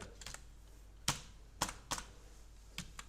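Keys tapped on a computer keyboard while an article title is typed, a few scattered, fairly close clicks with short pauses between them and no talking.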